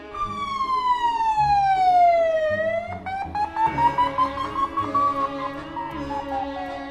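An emergency siren wails nearby, a long falling tone followed by a rising sweep, in the style of a police or ambulance siren, loud and alone without speech.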